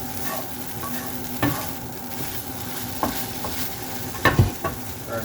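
Chorizo, eggs and hash browns fry in a pan with a constant close sizzle, broken by a few scraping stirs and taps of the utensil.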